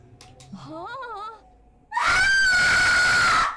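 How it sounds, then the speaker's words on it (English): A person lets out a long, loud, sustained scream after a quieter wavering vocal sound, close to the microphone, with no other talk over it. "I said I was gonna scream"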